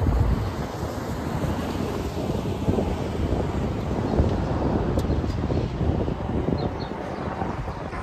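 Strong wind rushes and buffets continuously on a cloudy, rainy day, a loud broadband roar with no voices.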